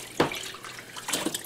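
Water poured into a curing brine for peameal bacon, a pot holding salt, peppercorns and a bay leaf: two short splashy bursts of liquid, fairly close, with no talking.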